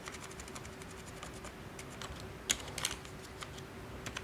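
Computer keyboard typing while pasting code with Ctrl+V in a C# lesson, with scattered light key clicks and one sharper keystroke midway, close and moderately quiet with no voice.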